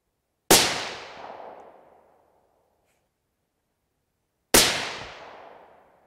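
Two loud 6.5 PRC rifle shots firing 140-grain Hornady BTHP bullets over Reloder 26 powder, each a sharp crack with a long rolling echo, spaced about four seconds apart in open quiet.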